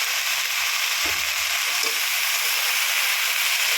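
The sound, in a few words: stirring Kulekhara greens frying in a pan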